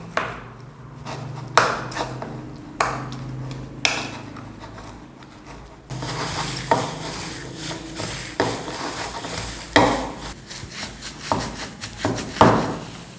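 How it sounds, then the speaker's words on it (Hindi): Chicken momo filling with soy sauce and ginger garlic is stirred in a bowl, giving repeated sharp knocks and scrapes in an irregular rhythm, loud and close, with no talking. "अब इसको कर लेंगे अच्छे से मिक्स।"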